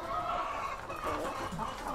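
Layer hens clucking while eating feed, a close, dense flock chatter of overlapping clucks and murmurs, steady throughout the short moment.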